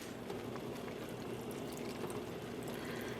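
Green acid dye poured from a container onto neon-dyed yarn: a steady, close, hushed liquid wash with a soft trickling texture that runs evenly throughout, with no talking.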